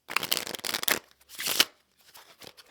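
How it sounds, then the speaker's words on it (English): Playing cards riffle-shuffled up close: a quick fluttering burst, a pause, another short riffle, then faint soft shuffling. "how you could turn your riffle shuffle from looking like this"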